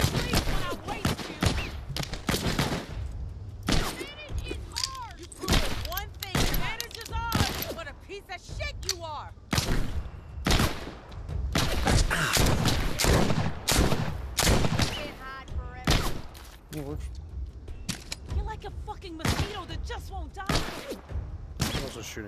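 Gunfire in the VR video game Walking Dead: Saints and Sinners, dense sharp shots and bursts scattered through the whole stretch, mixed with frequent talk and game noise.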